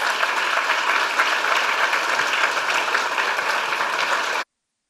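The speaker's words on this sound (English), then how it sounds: "So if you could please give me a warm round of applause for World Group President David Malpass" Warm, dense applause from a conference audience welcoming World Bank Group President David Malpass, steady and sustained, then cutting off abruptly.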